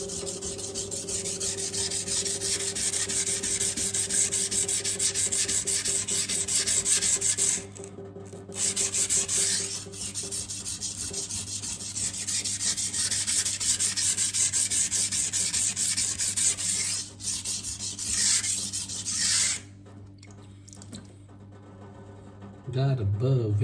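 A knife blade is drawn over a 400-grit sintered diamond stone in steady, continuous rasping strokes, loud and close, with short pauses between passes and a voice talking over it.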